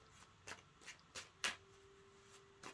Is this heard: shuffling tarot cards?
yes